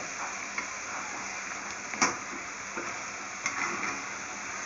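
Bottle gourd Manchurian balls fry in hot oil with a steady, soft sizzle and a few faint clinks of a utensil against the pan.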